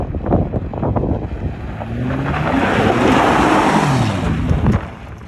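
A Chevy Colorado ZR2 truck drifts on dirt, its engine rising in pitch then shifting up, with rough wind-buffeted rumble and gravel noise swelling mid-clip and fading at the end.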